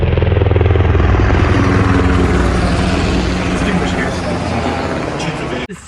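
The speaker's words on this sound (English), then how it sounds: "Historic warbirds starting the Flypast that we're now going to enjoy for the next 40 minutes." Historic warbird aircraft passing overhead during an RAAF 100th anniversary flypast, a loud, deep, steady engine drone that fades gradually over several seconds, with a crowd or commentary murmuring beneath it.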